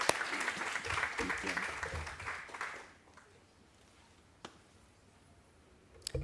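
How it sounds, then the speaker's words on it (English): A round of applause at a book launch welcoming a speaker, brisk clapping for about three seconds that then drops off abruptly to a quiet room with only a couple of stray sounds, and some voices mixed in. "Let's give her a round of applause"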